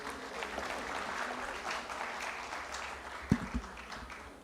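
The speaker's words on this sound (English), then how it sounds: "Can we have a round of applause for our speakers here?" At a forum on green technology and innovation, the audience applauds the speakers. The clapping is quiet, distant and steady, with a couple of louder knocks near the end.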